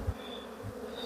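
Honey bees buzzing at an open hive during an apiary visit, a close, continuous droning hum with no talk over it.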